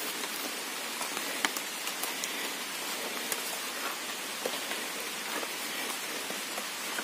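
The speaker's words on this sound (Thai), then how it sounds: "ฝนตกแล้วพี่น้องครับ" Rain falls steadily on a forest during mushroom foraging, a dense, even hiss of drops with occasional louder nearby patters and no talking.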